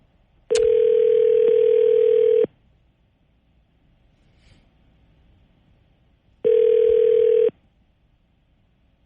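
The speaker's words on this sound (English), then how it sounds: "Dial the number." A telephone dial tone sounds in two steady bursts, the first about two seconds long and the second about one second, with near silence between them before a number is dialed.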